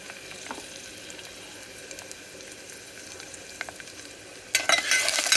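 Green chillies and onions fry in a pan for a mutton aloo kurma, giving a soft, steady sizzle with faint stirring ticks, then a louder burst of crackling near the end as more goes into the hot oil.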